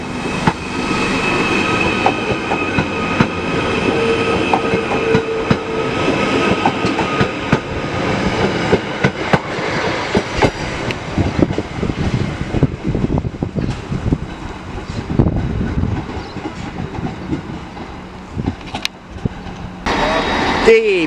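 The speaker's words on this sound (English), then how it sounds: "Departing now is the 1115 Merseyrail service to Liverpool Central" A Merseyrail train pulls out of Chester station toward Liverpool Central, giving a continuous loud rumble with clattering wheels, rail noise and brief squeals as it passes close by, while a voice talks over it.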